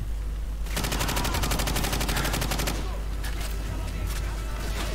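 Rapid, loud bursts of shotgun fire in Call of Duty 4: Modern Warfare, a dense string of shots packed close together for about two seconds, followed by scattered softer reports and game ambience.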